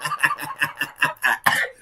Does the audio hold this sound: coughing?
yes